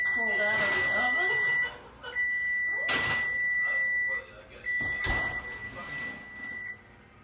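An oven being opened and baked vanilla cake layers pulled out, with sharp clunks of the door and pans alongside a steady high electronic tone that stops and restarts, while a person talks nearby.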